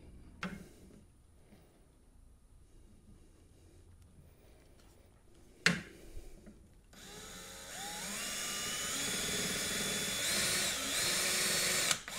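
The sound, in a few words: drill enlarging holes in Mini Jeep body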